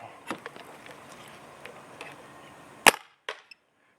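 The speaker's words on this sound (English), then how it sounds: "we're going to be shooting the new Pooty Bolt in the Ego and the SL8R" A single sharp crack of a paintball marker firing, an Ego fitted with a Pooty Bolt, loud and close, followed by a couple of small clicks and then silence.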